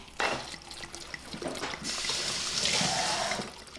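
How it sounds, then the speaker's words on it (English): Wine glugs and splashes as it is poured from a bottle into a pot, a steady liquid stream building over several seconds. "Okay, so Adele, should we pour this bottle of wine in there?"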